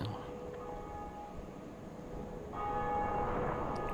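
A large bell rings twice in a Dark Souls game scene, each strike a sustained metallic tone, fairly faint and distant over low ambient rumble, the second ring slightly louder than the first.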